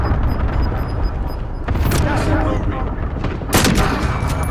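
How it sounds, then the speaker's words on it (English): Heavy missile strike explosions in a first-person shooter, dense rumbling blasts with two sharp loud bursts standing out from continuous battle noise. "What did you just shoot? Oh, missile strike."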